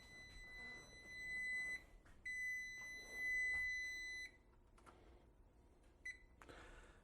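A kitchen timer goes off in a home kitchen during cooking, sounding repeated loud, steady electronic beeps in sustained bursts, then stopping, followed by brief clatter and handling noises.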